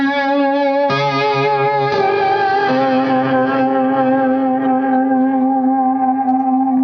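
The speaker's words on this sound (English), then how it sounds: "We've got filthy distortion" Sustained electric guitar notes played through heavy, gritty distortion, loud and ringing, with a couple of chord changes and no voices.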